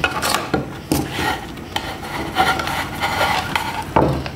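A wooden screw, unsanded and still a little tight, grinds and rubs as it is twisted through a threaded hole, a close, continuous scraping with small knocks recurring about every half second.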